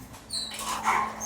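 Soft, brief whimpering whine from a timid dog in an animal shelter, faint and close, with quiet room tone underneath.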